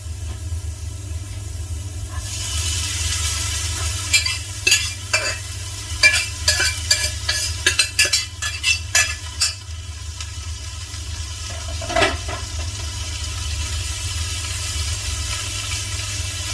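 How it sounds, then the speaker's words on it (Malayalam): Cooked green gram is stirred with a spoon in a frying pan over steady sizzling, with a burst of scraping strokes through the middle and a few later ones, no talking. "എല്ലാം കൂടി പെതുക്കെ ഒരു സ്പൂൺ ഇട്ട് ഇളക്കി കൊടുക്കുകയാണ്."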